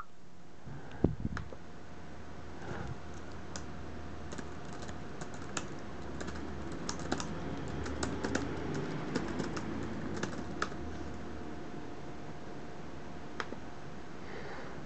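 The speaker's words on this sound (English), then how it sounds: "I can hear you typing." Keys on a computer keyboard are typed during a live online healing session. Faint, scattered clicks come in irregular bursts over a quiet room hum, with soft bird cooing in the background.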